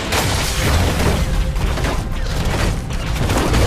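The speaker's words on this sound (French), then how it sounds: "Posez une charge explosive sur une cible." Tristana's explosive charge bomb detonates in League of Legends, a dense, loud burst of crackling blasts and rumble that stays steady through the moment.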